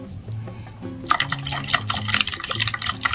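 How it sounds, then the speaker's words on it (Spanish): Water poured from a small container onto a potted plant, a soft splashing and trickling that starts after a second of quiet room tone and continues close and moderately loud with irregular drips. "Echamos un poquito de agüita"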